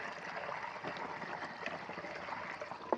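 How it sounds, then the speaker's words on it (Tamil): Water pouring steadily into a pesticide sprayer tank ahead of spraying a groundnut crop, a continuous splashing trickle heard close and alone for about three seconds. "தண்ணி ஒரு அரை டேங்க் தண்ணி ஊற்றிக்கணும்"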